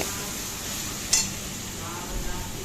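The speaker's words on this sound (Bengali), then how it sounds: "মশলাটা ভালোভাবে কষা হচ্ছে" Masala with ginger-garlic paste and tomato being sautéed in a pan for Dak Bungalow chicken, a low steady sizzle with a brief utensil clink and soft stirring scrapes.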